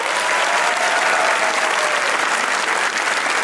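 A studio audience at a comedy talk show applauds loudly and continuously, dense even clapping filling the room.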